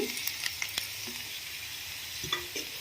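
Ivy gourd pieces and onions fry in oil in a pan, giving a steady close sizzle with a few sharp spatula taps and scrapes near the start and end.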